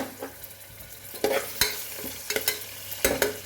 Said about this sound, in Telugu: జింజర్ గార్లిక్ పేస్ట్, అల్లం వెల్లుల్లి పేస్ట్, కొంచెం బిర్యానీ మసాలా అది కూడా వేసి వేగిన తర్వాత ఇది కొంచెం వేగనివ్వాలి